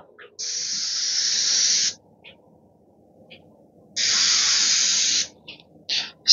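A spray gun paints the edge of a Shaker-style door in two long, loud hissing bursts separated by a pause, followed by a few short spurts at the end.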